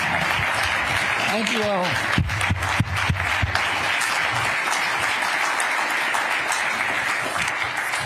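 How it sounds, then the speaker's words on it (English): A live audience gives sustained applause for the Secretary of Health and Human Services, with steady crowd clapping throughout and a brief voice speaking over it early on. "Let's give the Secretary a round of applause"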